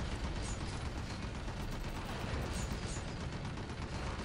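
Dense gunfire and mechanical clatter from the Red Faction 2 shooter game, a loud, continuous wash of rapid shots with no breaks across the whole stretch.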